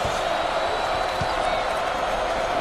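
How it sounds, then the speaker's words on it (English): Basketball arena crowd at a 2014 March Madness game between Oklahoma and North Dakota State keeps up a dense, steady roar of cheering, with a faint thud partway through. "This crowd is fired up."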